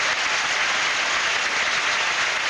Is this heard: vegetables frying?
no